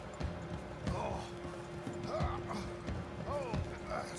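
Horse hooves walk at a steady pace in Red Dead Redemption 2, close by and rhythmic, with a short whinny-like cry and tonal game sounds mixed in.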